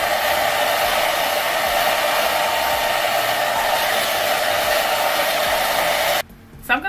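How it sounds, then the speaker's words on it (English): A blow dryer roars steadily and loudly up close for several seconds, then cuts off abruptly near the end. "use my blow dryer to flatten this out a little bit more"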